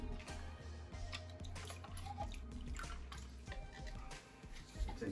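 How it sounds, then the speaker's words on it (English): Water poured into a small fish tank holding a betta fish, a steady splashing pour with drips running throughout, close and fairly loud, with no talk over it. "I'm really gonna pour the water in there."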